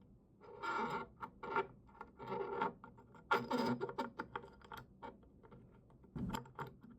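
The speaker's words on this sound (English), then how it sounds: "And then you tighten the screws on the inside." Screws being tightened by hand to fasten hardware onto a wooden dresser: close, intermittent bursts of scraping, ratcheting clicks and creaks, separated by short pauses.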